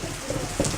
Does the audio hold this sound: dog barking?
no